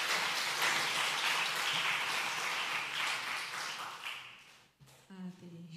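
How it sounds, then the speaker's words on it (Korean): A church congregation applauds in a dense wash of clapping that slowly thins and fades, followed by a brief pause and then a voice starting to speak. "박수 한번 해주세요"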